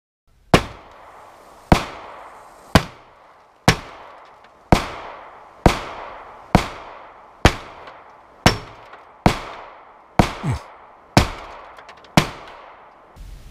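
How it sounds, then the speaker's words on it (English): Thirteen gunshots fired at a car used as cover, sharp loud cracks evenly spaced about one second apart, each ringing briefly before the next, with no talking. "Now, I fired 13 shots, and as you can see, I tried to spread them out."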